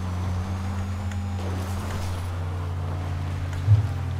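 A turbocharged car engine in GTA 5 Online drones low and steady, holding an even pitch throughout with a faint bump near the end and no voices.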